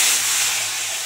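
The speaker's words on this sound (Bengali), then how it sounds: "এবার মাছগুলো খুব ভালো করে ভেজে নেব।" Koi fish sizzle steadily in a shallow layer of hot white oil, a loud, even, broadband frying hiss that holds without a break for the whole short moment, with no voices.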